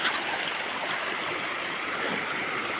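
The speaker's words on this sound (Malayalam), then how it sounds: "ഇവിടെ പിള്ളേരൊരു ചെറിയ വെള്ളച്ചാട്ടം പോലെ ആക്കി വെച്ചിട്ടുണ്ടോ" Water pours steadily over a small waterfall made by damming a stream, giving a continuous close rushing splash with no voices.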